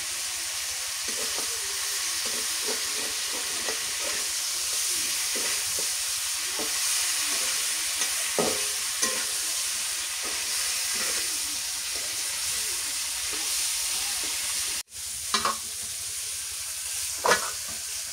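Continuous hiss of goat meat frying in hot oil, with scattered pops and occasional stirring clatters, close and steady throughout, no one speaking.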